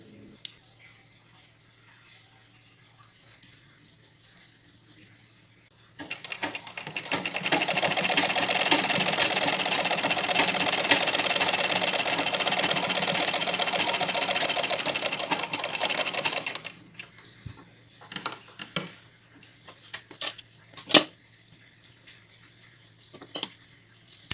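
A sewing machine runs in one steady, loud continuous burst of about ten seconds, stitching a placket tab onto the cuff of a woman's uniform shirt sleeve, with quiet handling clicks before and after.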